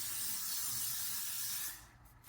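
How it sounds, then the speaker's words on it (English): Hairspray from an aerosol can hisses steadily onto hair in one continuous faint burst, ending shortly before the clip closes. "Spray evenly on your hair from a distance of 30 centimetres"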